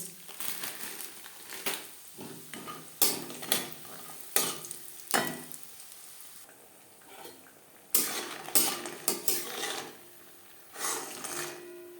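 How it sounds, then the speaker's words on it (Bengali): Bori lentil dumplings fry in refined oil amid a crackling sizzle broken by repeated scraping stirs and clinks of a utensil against the pan, heard up close in uneven bursts with no speech. "আমি রান্নাটা করছি রিফাইন অয়েলে আপনারা চাইলে সর্ষের তেলেও করতে পারেন সবার আগে বড়ি ভেজে নেব"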